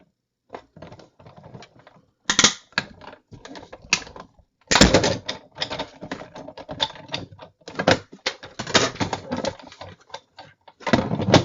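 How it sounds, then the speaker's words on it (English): A Big Shot die-cutting machine rolls cardstock through a Hearth & Home Thinlits die, giving a run of dense, close mechanical cranking, clicking and clattering bursts of varying loudness with brief pauses between them and no talking. "So let's put this through the Big Shot."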